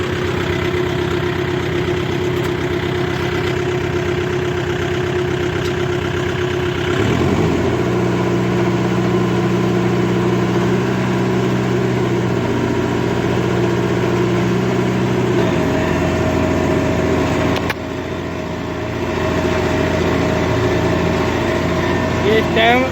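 Kubota 5502 tractor diesel engine running steadily at about 1700–1800 RPM while working a field of cloddy lakebed soil, a loud continuous close drone with shifting load tones and no pauses.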